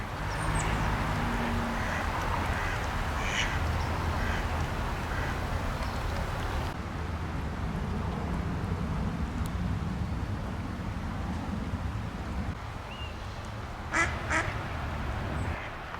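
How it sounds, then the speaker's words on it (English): Ducks quack intermittently on the C&O Canal over a steady outdoor background rumble, with a burst of louder quacking near the end. "Oh, this is the place for ducks right here."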